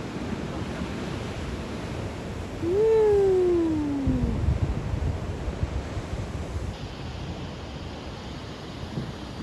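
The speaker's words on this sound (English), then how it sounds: "Half of the noise is thunder and half of it's the waves." Steady roar of ocean surf mixed with thunder and wind noise on the microphone, with a brief high wavering cry rising over the rumble partway through.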